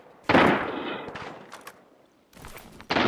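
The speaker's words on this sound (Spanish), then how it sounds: "Disparo a lo lejos, ¿tú lo escuchaste?" Several sharp bursts of distant gunfire in the video game Arena Breakout, one loud crack followed by scattered echoing shots and a second burst near the end, with no talking.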